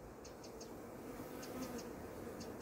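A swarm of honey bees drones faintly around the listener, a thin steady buzzing hum with a few brief, louder passes as single bees fly close.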